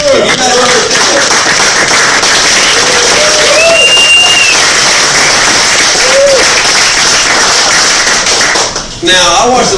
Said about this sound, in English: You guys all give a round of applause.